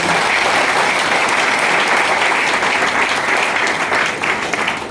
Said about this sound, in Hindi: इतना कम ताली, एक बार तो और इतने जोर से ताली हो जाना चाहिए